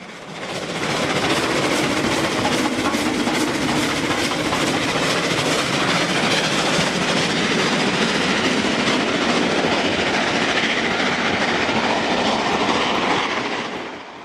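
An LNER V2 steam locomotive hauls a mixed goods train past at close range, giving a loud, steady rumble of wagons with clickety-clack wheel beats. It fades slightly at the end, and no one speaks.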